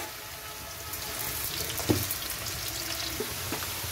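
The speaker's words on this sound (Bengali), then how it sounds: "আলুটা ভাজা হোক।" Potatoes frying in a kadai of oil while cooking a prawn and jackfruit curry, a steady soft sizzle and watery hiss running throughout, with a brief louder clatter near the middle.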